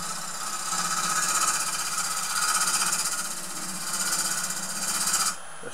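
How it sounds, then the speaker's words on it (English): A wood lathe turns a bowl while a tool makes a pull cut, producing a steady, gritty, rapidly chattering whir that swells and eases in waves. The sound is close and continuous, and it cuts off near the end. "Just doing a pull cut."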